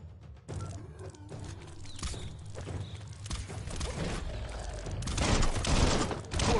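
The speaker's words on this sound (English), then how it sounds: "Bullets everywhere." Gunfire in the video game Biomutant: scattered shots and bursts crackle amid thumps and mechanical clatter, building to a louder, denser volley toward the end, with no talking.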